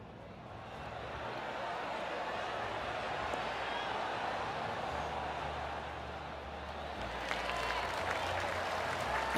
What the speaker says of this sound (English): We heard some applause a little while ago.